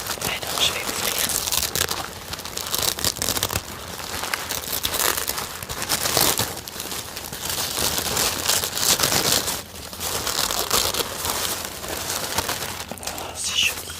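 Packaging of a perfume parcel being opened, with continuous close crinkling and rustling of paper or plastic and a few sharper tearing bursts throughout.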